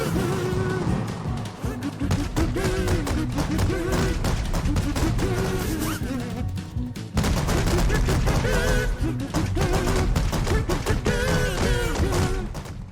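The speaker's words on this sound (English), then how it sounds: "Fireworks Mania, an explosive simulator" Fireworks bursting in the game Fireworks Mania, a dense rapid barrage of loud cracks and booms that continues throughout, with a brief lull midway before resuming even louder.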